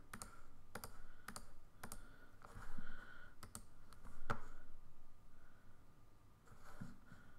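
Typing on a computer keyboard, with scattered sharp key clicks and short bursts of keystrokes spread over several seconds, close by and fairly quiet, no voice.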